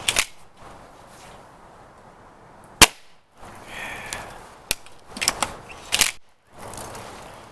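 A Gamo Swarm Maxxim multi-shot air rifle firing several separate shots, each a sharp, loud crack with a brief tail, spaced irregularly and mixed with mechanical clicks and quiet gaps, no talking.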